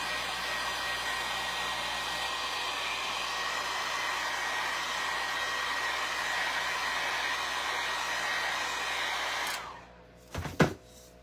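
A hair dryer blows steadily and loudly at close range while drying paint on green-toned wall decor, running unbroken for about nine seconds before switching off, followed by a couple of brief handling knocks.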